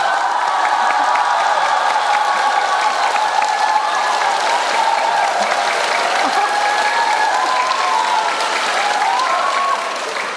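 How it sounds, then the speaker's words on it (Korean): A church congregation gives loud, fast, sustained applause, dense clapping filling the hall for about ten seconds with a few faint voices underneath. "아니 이 연세 드신 분들이 웬 이 박수 속도가 빨라요"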